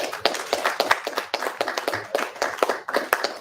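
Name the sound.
group applause after Torah portion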